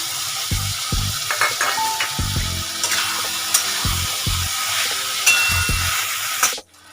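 A ground paste of nigella, fennel, ginger and radhuni fries in a pan for shukto, giving a steady close sizzle with intermittent stirring scrapes, before the frying drops away abruptly at the end.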